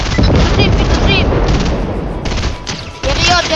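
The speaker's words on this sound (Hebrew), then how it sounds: "יריות." Loud, rapid video-game gunfire rattles in continuous bursts like a machine gun, with heavy booms underneath and voices talking over the shooting.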